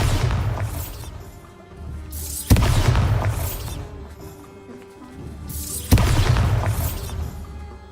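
Two loud booming blasts from the Bombarda explosion spell in the Hogwarts Legacy video game, each a sharp crack swelling into a rumbling burst with debris clatter, spaced about three seconds apart over a continuous game ambience.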